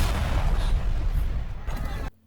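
A heavy, rumbling explosion in a film roars continuously for about two seconds, with crackling debris over the top, then cuts off abruptly into near silence.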